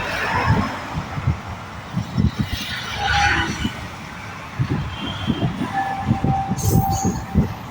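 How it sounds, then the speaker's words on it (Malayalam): A train rumbles past nearby with rhythmic clattering of wheels over rail joints and faint high squeals, loud and rolling for several seconds. "ട്രെയിൻ വന്ന് നോക്കിയ"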